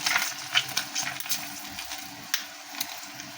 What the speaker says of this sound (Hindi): पापड़ भी फ्राई हो गए हैं और फ्राइज़ भी हो गई हैं